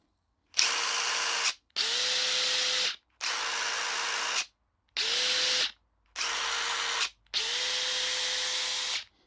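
DeWalt DCF870 hydraulic impact driver runs through its speed settings, six separate bursts of steady whirring motor noise with brief silent pauses between, each run rising and settling at a smooth pitch.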